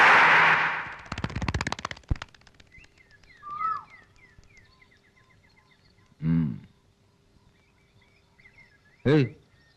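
Several sharp gunshots ring out, a rapid burst early on followed by two isolated loud shots with echoing tails, amid quiet outdoor ambience.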